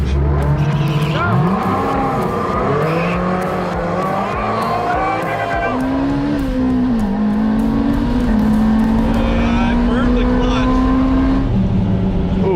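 A Ferrari engine hums and rises in pitch as it pulls away from a standstill, with steady mechanical drone and some talking over it throughout.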